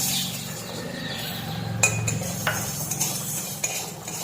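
A spoon stirs sugar melting into caramel in a pan, with a steady soft scraping and faint sizzle under a few sharp metallic clinks against the pan, close and continuous, without speech.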